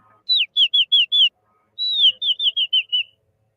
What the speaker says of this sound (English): the sound that I use to end these sprints is a bird song